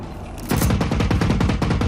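Rapid automatic gunfire in the multiplayer video game Generation Zero, a loud sustained burst of closely spaced shots that starts abruptly and continues without pause.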